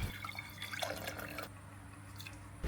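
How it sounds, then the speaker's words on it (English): Clam broth poured back into a cooking pot after the clam meat is stir-fried, heard as a steady close liquid trickle with small drips, moderately quiet with no talking. "I quickly stir-fry the clam meat before pouring the broth back into the pot."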